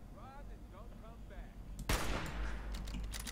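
Gunfire from the video game Fallout 4 cuts in sharply after a stretch of quiet talk, a loud close shot followed by rattling echoes and further blasts.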